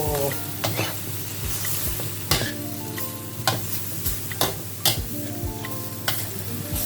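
Chinese kale stir-fried in a pan for a noodle dish, constant loud sizzling with repeated sharp clacks of a spatula striking the pan at irregular intervals, close up.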